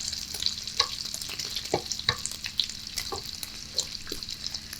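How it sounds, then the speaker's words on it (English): Bacon crisps in a cast iron skillet, giving a soft, continuous fry with crackling pops scattered throughout and occasional light utensil knocks, fairly quiet and close. "I'll let that bacon get a little crispier."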